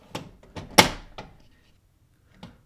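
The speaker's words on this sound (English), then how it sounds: "you just have to close this small door here" The small access door of an HP Deskjet 2723 printer snaps shut up close with a few light plastic clicks and one sharper thunk, then a faint final tap after a short pause.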